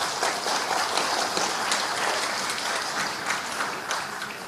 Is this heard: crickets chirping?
no